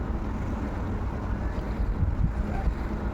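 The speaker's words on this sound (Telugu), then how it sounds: "సముద్రాన్ని చీల్చుకుంటూ పొగలు కక్కుకుంటూ ముందుకు సాగుతున్న మా పయనం అండమాన్ నుంచి విశాఖపట్నం" A ship cuts through open sea on the passage from the Andaman Islands to Visakhapatnam, a steady close rumbling wash of water and wind noise without any voices.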